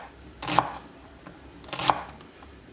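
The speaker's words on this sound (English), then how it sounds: "I'm just going to cut this down into nice small diced pieces" A knife dicing onion on a cutting board, two distinct, solid chops spaced over a second apart, close and clear over a quiet room.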